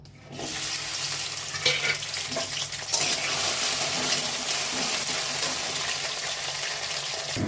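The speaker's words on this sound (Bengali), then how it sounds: "প্রথমে ঢ্যাঁড়সটা ভেজে নেব।" Okra hisses and sizzles in hot mustard oil in a wok, a loud, continuous broadband crackle that rises sharply at the start and holds steady with small spits and stirring bumps.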